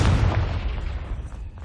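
In Hogwarts Legacy, a Confringo spell detonates as a heavy, close explosion whose low rumble rolls on and gradually dies away over more than a second, with no voices.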